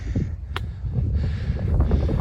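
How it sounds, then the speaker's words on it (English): Winter wind on Bear Mountain, New York, gusts rumble low and steady across the whole stretch, with a brief sharp click near the start. "It's getting windy up here."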